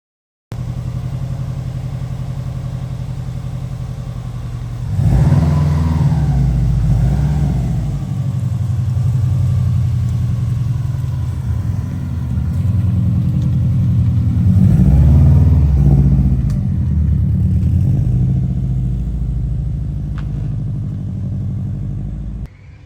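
A Subaru Impreza pulls away from a car detailing shop, its engine idling, then rumbling and revving in two surges before fading off at a moderate distance.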